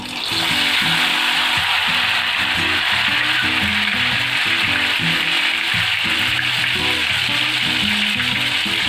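Ghewar batter poured a spoonful at a time into hot oil for rabri ghewar, sizzling and bubbling steadily and loudly throughout, with background music underneath.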